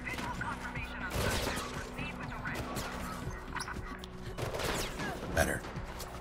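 Rapid bursts of gunfire in a video game rattle almost continuously, loud and near, with occasional sharper cracks, while a player talks over the shooting.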